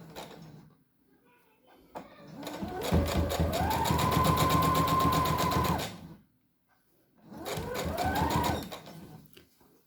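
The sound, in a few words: sewing machine stitching along the edge with backstitch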